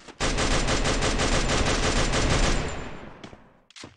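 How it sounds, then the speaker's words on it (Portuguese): Dense, continuous automatic gunfire from the Free Fire mobile shooter during a tournament match, loud and sustained for nearly three seconds before fading, followed by a couple of brief sharp tails, with no talking. "Os caras estão atirando em nós também"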